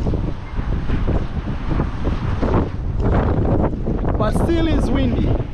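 Steady, loud wind buffeting the microphone throughout, with a voice speaking briefly near the end.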